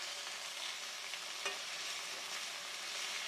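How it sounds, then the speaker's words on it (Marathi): Fenugreek leaves saute in hot oil in a pan, giving a soft, steady sizzle with faint stirring. No one speaks. "ही मेथी घालूया मेथी आपल्याला दोन मिनटं तेलावर परतून घ्यायचे"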